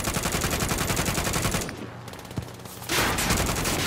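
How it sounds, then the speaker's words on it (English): Sustained automatic fire from Call of Duty Warzone, loud and steady at first, then dropping to quieter scattered shots. A sharp single crack stands out before dense rapid fire surges back near the end. "Now they shooting at us"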